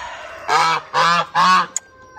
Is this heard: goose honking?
yes